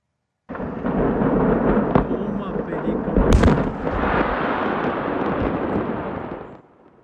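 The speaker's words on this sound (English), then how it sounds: "That is the explosion right there." A sudden deep boom with a sharp crack, followed by a rolling, roaring rumble that sustains for several seconds before cutting off.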